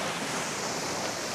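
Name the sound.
ocean waves at a Batangas beach resort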